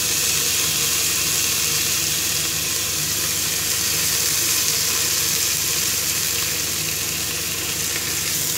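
Seeraga samba rice and garlic sizzle steadily in a hot pan for coving coconut milk rice, a dense, even frying hiss with no break, close and loud throughout.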